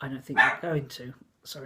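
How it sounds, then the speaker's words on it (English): A pet dog barks in a room, a few sharp yips and barks cutting in over someone talking. "excuse my dog there"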